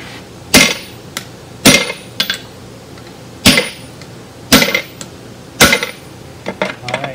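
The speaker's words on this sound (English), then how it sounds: "A good old-fashioned smack with the platter." Sharp metallic smacks from a platter striking metal while working a part over a mandrel, in irregular pairs and clusters of ringing hits spread across several seconds, loud and close with no talking.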